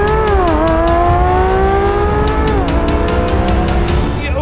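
A 2023 Chevrolet Corvette C8 Z06 launches hard from a standstill under launch control, its engine roaring loudly and climbing through the revs with a tire chirp, then dipping briefly at a shift before pulling on.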